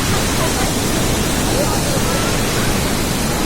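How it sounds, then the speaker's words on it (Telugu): A steady, dense roar of falling water fills the whole clip, loud and continuous, from Niagara Falls heard from nearby. "పెద్ద వాటర్ ఫాల్."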